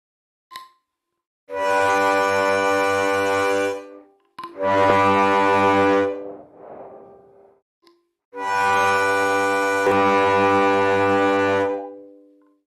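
Harmonica draw notes amplified through a HarpNinja Dyna-Mic blare in three long, loud, buzzy held tones, the middle one bending and fading, with brief silences between.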